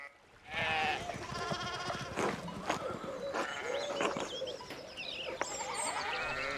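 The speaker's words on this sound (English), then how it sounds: "So many sheep blocking my path." Several sheep bleat in the medieval-village video game Pentiment, close and overlapping over a steady ambient bed of background game music, with no talking during the calls.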